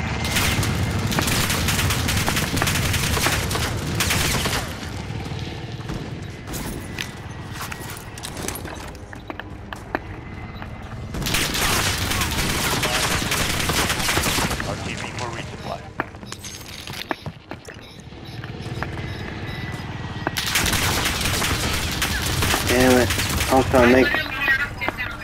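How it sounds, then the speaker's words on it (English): Rapid bursts of gunfire from the Call of Duty: Modern Warfare video game come in loud clusters separated by quieter stretches, with someone talking over parts of the action. "Fucking dumbass is shooting me like crazy."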